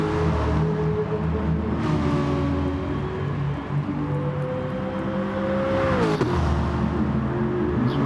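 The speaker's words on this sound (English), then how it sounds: "that Corvette is pretty fast in a straight line" A Corvette race car in a racing video game accelerates down a straight, its engine a loud sustained drone with rising and shifting tones, joined by a brief whoosh of another car partway through.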